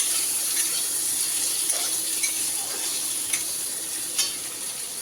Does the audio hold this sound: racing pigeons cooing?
no